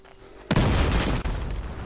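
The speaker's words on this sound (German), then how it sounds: "Achtung, Granate." A loud grenade blast in the shooter game Battlefield Hardline, one sudden deep boom followed by a rumbling tail and a second thud, close and without talk.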